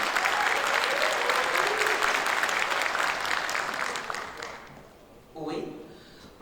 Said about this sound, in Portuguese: Então, uma salva de palmas para a professora Ana Cristina.